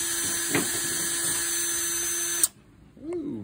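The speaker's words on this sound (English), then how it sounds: "I got to kind of drill them out" A steady, close electric drill whine runs for about two and a half seconds while boring screw holes into wood for a hinge, then cuts off abruptly, followed by brief talking.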